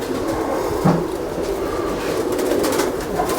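A Sialkoti pigeon gives low, soft coos over constant background noise, with one brief louder note near the start and no talking.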